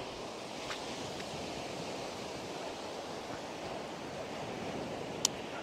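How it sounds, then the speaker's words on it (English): Sea waves wash continuously against a fishing shore where flounder and turbot are caught, a steady broad rushing surf with wind over the microphone and one sharp tick near the end. "the sea is coming round about me, surrounding me"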